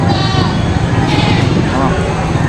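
Goats bleat repeatedly amid a noisy, crowded market background, with people talking nearby.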